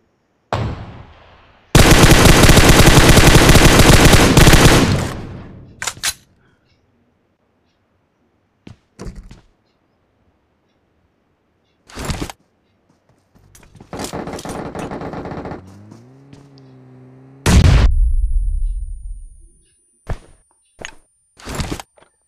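Gunfire in a first-person shooter, heard as several loud bursts of shots separated by quiet gaps, with a long sustained volley near the start and shorter sharp reports later.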